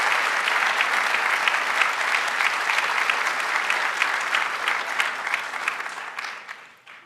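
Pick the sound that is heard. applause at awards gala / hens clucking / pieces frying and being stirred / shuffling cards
applause at awards gala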